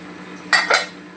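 A spoon stirs soybean and potato curry in a pan, making two quick metallic scraping clinks close by over a quiet background.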